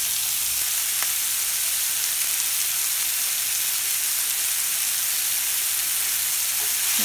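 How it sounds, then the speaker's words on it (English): Bacon frying in a pan: a dense, steady, loud sizzle and crackle that holds without pause, with an occasional faint clink. "We're going to let this cook a little bit before we put the onions in because we want the onions to cook in the bacon grease"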